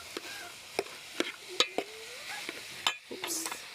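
Githeri is stirred in a sufuria pot, giving sharp, scattered scrapes and knocks of a spoon against metal over a faint, quiet sizzle, close up with no voices.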